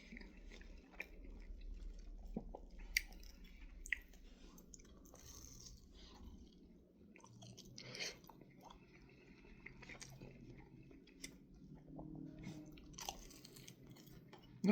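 Crunchy El Monterey Extra Crunchy Diablo taquitos being chewed close up, irregular soft crunches and mouth sounds running steadily with no talking.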